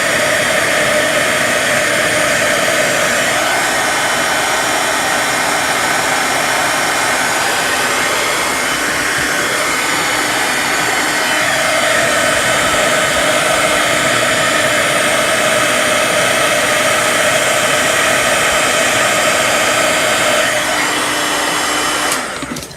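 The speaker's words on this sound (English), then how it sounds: "as it turns and melts, it'll get shiny" A heat tool blows hot air onto embossing powder to melt it, a loud steady whooshing roar like a hair dryer that runs nonstop, close, with no speech.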